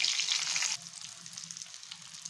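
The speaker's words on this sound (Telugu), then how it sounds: "ఇలాగే మిగిలిన పీసెస్ కూడా ఫ్రై చేసుకుందాం" Chicken pakodi pieces deep fry in hot oil, a loud close hiss that drops to a softer, steady bubbling sizzle partway through, with no voices.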